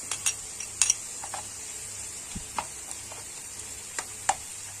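Fried hot peppers sizzle steadily with onions in a hot pan, a soft constant hiss broken by occasional light clinks of a utensil.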